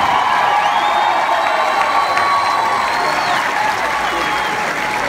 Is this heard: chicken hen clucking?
no